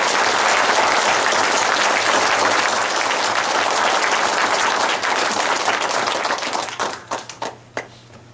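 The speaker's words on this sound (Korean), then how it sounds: "큰 박수 하나님께 올려드리겠습니다." A church congregation at a tenth-anniversary and ordination service gives a long, full round of applause that holds steady, then thins into scattered final claps and fades out.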